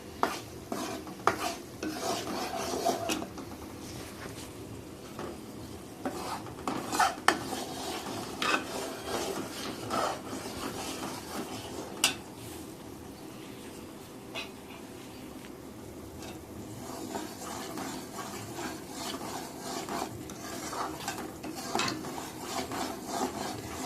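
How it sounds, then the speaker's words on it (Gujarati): Bajra flour roasting in ghee over a low flame is stirred slowly and continuously, making soft, irregular scraping and rubbing strokes with a faint sizzle underneath, close and fairly quiet. "ધીમો ગેસ રાખીને આપણે આવી રીતે ધીમે ધીમે હલાવતું રહેવાનું."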